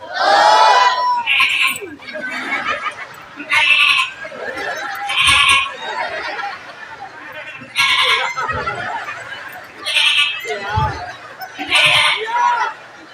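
A person imitating a baby goat, giving a string of loud nasal bleats in separate bursts, with crowd chatter and reactions filling the pauses between them.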